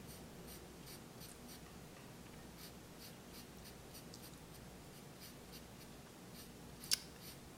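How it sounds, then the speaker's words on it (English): A 6B charcoal pencil flicks across paper in short, quick strokes, a faint, close scratching in an irregular rhythm with one sharper tap near the end, and no voices. "I'm going to use my 6B charcoal pencil to draw"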